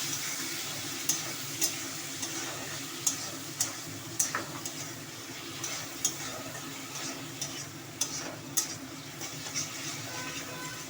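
Spice paste with salt, turmeric and a little water stirred in a pan for a Bhola fish curry, a steady low sizzle broken by repeated sharp spoon scrapes and taps at an uneven rhythm, close and moderately loud, with no talking.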